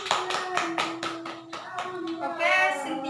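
Classroom audience clapping during a micro-teaching lesson, a short round of distinct, fairly close hand claps at a quick irregular rhythm, with a faint voice in the background.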